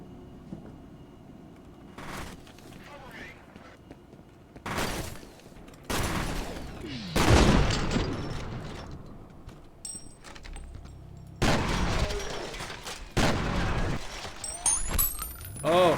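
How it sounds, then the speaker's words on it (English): Shotgun blasts in the video game FEAR: several heavy, booming shots a second or two apart, with rattling mechanical handling and shattering debris between them, with no talk. "Oh, shotguns are so fun"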